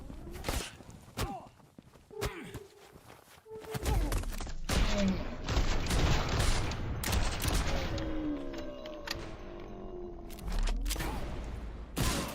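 SMG gunfire in the indie shooter Suit for Hire, rapid bursts of shots with thumps and footsteps, close and punchy, building into dense continuous firing mid-clip.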